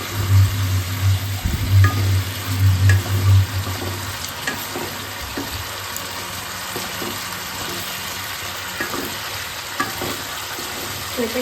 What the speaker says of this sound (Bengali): এই যে চিকেনের মশলা কষতে দিয়ে দিয়েছি মোটামুটি।